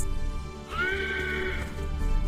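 A single horse whinny rises out of a background music bed and holds as a bright, wavering neigh for about a second before fading back under the music.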